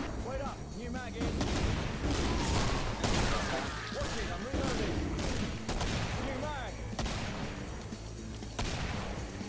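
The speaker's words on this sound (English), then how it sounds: "shotgun does sound pretty cool" Shotgun blasts and other gunfire ring out repeatedly in the video game Killing Floor, loud and close, with bursts of shots and crashing impacts over a steady game din while players talk.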